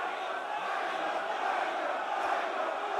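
A large esports arena crowd at the Rainbow Six Manchester Major semifinals keeps up a steady, loud roar of chanting and jeering for the full stretch, a dense wall of voices without pause.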